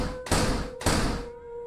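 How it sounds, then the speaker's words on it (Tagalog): Two loud, hollow knocks about half a second apart, close and sharp, each with a brief resonant tail, then quiet. "May kumakatok na naman."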